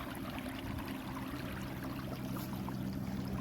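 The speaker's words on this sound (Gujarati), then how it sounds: "જોવો જ અહીંયા પાણી કેમ જાય છે" Rainwater runs past a village house during heavy rain, a steady, dense rushing flow like a stream that holds at an even level throughout with no voices.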